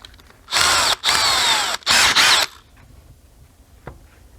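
Power drill boring a hole through a Red Devil paint scraper blade, three loud close whirring bursts with brief pauses between, then a quiet tail with a small click.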